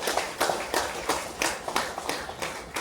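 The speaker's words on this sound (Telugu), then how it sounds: "ఒకసారి మనం చప్పట్లు కొట్టుకుందాం." Audience at a meditation talk clapping in a brisk, fairly even rhythm of sharp claps, loud and close, with no talk over it.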